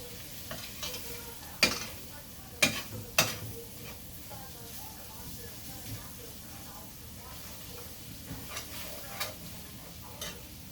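A spoon stirs braised beef in a frying pan over a soft steady sizzle, with a few sharp scrapes and taps against the pan and faint talk in the background.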